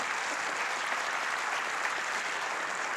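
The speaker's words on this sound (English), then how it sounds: "give him applause, he needs that" Dense, steady applause from an audience at a school board meeting fills the whole stretch evenly, loud and unbroken with no voices on top.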